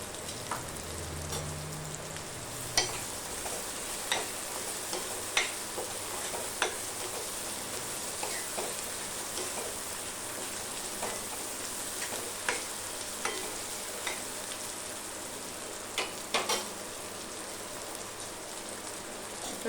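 Ginger garlic paste frying for dal fry makes a soft, continuous sizzle and crackle with scattered small pops, fairly quiet and steady, with no talk.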